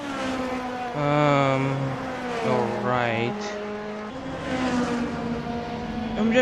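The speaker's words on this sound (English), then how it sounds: "just checking on the current situation of the cars out on track" Race cars run on the Suzuka circuit in a racing video game during a Formula Hololive event, engine tones rising and falling in pitch with some tire noise, while someone talks over them throughout.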